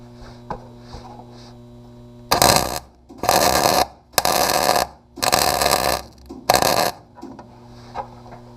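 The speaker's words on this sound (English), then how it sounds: "now I'm going to add a little bit of weld on top of here where there's a gap, just to help strengthen this" Arc welding on the final drive of a Yanmar B27 mini excavator: five loud, crackling weld bursts, each one to two seconds long, separated by short pauses, over a steady electrical hum.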